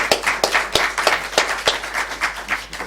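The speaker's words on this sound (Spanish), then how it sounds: "un aplauso" A small audience claps for a speaker at a Madrid historical reenactment event, with scattered hand claps landing in a loose, uneven rhythm of distinct sharp peaks, moderately close throughout.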